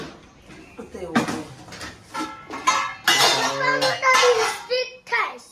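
Dishes and cutlery clatter and clink close by while a child and an adult talk over the noise.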